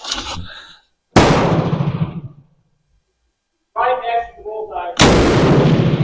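A toy Bren MK2 gun fires and cycles in sharp, loud cracks, two main bursts a few seconds apart, with clicks of the action and a brief lull between them.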